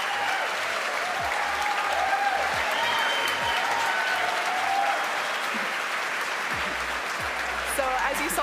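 A crowd watching a Falcon 9 rocket touch down on a drone ship claps and cheers steadily, a broad applause heard from a distance, with faint talk and occasional low thumps.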